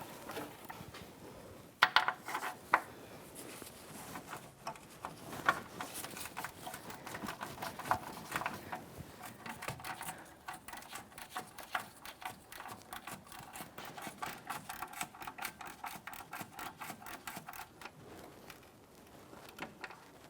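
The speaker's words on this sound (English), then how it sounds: "I'm going to grab my 3/4 deep 16mm socket and short ratchet and start those" A short ratchet with a 16mm 3/4 deep socket starts the front sway bar bushing bolts on a 2009-2014 Nissan Maxima, making rapid, fine clicking in uneven bursts, quiet and close, with a few louder knocks at the start.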